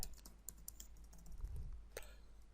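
Faint, scattered clicks of typing on a computer keyboard while coding HTML and jQuery, a few soft taps with no talking.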